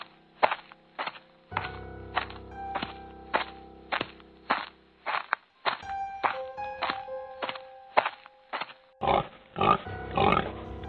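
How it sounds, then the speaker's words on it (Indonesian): A wild boar in a horror cartoon gives a steady series of short, sharp grunts, about a dozen evenly spaced, over a low droning tone, loud and close with no talking. "Yang ada malah cuma babi hutan."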